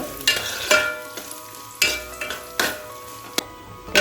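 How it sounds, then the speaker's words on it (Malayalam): Coconut pieces fry in oil, sizzling steadily in a pan while a spoon or spatula scrapes and stirs in repeated strokes, close and fairly loud. "നമുക്ക് തുടർച്ചയായി ഇളക്കി ഒരു ഗോൾഡൻ കളറാകുന്നവരെ റോസ്റ്റ് ചെയ്തെടുക്കുക"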